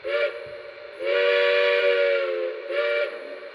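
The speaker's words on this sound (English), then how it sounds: "You can check out that whistle steam effect." Steam whistle effect from a Lionel Pennsylvania Railroad Camelback model train: three clear harmonic whistle blasts, short, long, short, loud and close with a faint hiss behind.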